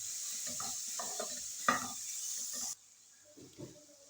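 Chicken stirred in a pan with white cumin for kachori filling: scraping stir strokes over a steady sizzle, a louder clatter midway, then quieter stirring after the heat drops.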